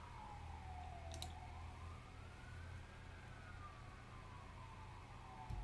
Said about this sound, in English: I don't know if anyone can hear the ambulance in the background